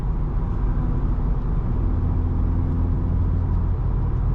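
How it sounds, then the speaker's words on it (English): Low, steady road rumble and wind hush fill the cabin of a 6-speed manual Volkswagen Golf R cruising at about 70 mph on the highway, with no voices. "let's take a listen to road noise, wind noise at 70"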